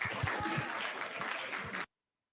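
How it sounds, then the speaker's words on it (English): An audience at an Ange Talks speaking event claps to welcome a speaker, giving a short burst of live applause under faint voices that cuts off abruptly partway through. "Let's give her a clap."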